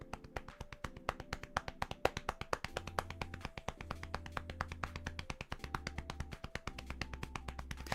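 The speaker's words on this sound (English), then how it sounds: "Happy taps. Like happy life jacket taps." Hands in a fursuit tap rapidly on a floaty life jacket, a steady, evenly spaced run of soft close thumps for eight seconds while quiet background music plays underneath.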